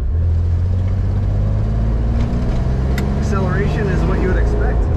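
A 1965 Chevrolet Corvair Monza convertible with a 4-speed, top down, idles with a steady low engine drone, loud and continuous, with a voice speaking over it partway through.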